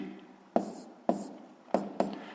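A pen writes on paper while working a 6th-grade math equation, four quick distinct scratchy strokes spaced about half a second apart, quiet and close, no voices.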